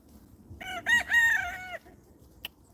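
A rooster crows once, close and clear, a rising and falling call lasting about a second in a backyard, with a brief sharp knock after it and quiet surroundings.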